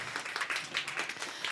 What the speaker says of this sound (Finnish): Ja ehdottomasti aplodit tähän väliin